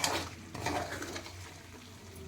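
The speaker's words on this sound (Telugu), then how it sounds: "కారం పీస్లా పట్టేటట్టు కలుపుకుందాం" Chicken pickle (pachadi) is stirred in a pan, with soft scraping and light sizzling close by, and a louder burst of stirring at the start.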